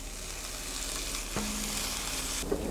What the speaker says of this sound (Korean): 타지 않게 약한 불에서 좀 오래 볶아주세요